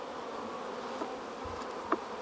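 Honey bees at an open beehive in a bee yard hum in a steady, dense buzz, close and continuous, with a few individual bees passing louder near the end.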